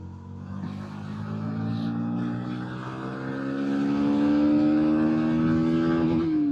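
Bajaj Pulsar NS160 motorcycle engine pulling hard through the gears, a loud, steady rising drone with clear harmonic whine that climbs in pitch and swells near the end, close to the rider.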